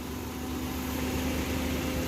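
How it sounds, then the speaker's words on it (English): A 2021 Perodua Ativa's small three-cylinder engine idles just after startup, a quiet, steady low hum with a faint tonal drone heard from close by and no one talking. "So this is how the car sounds like when you start the car."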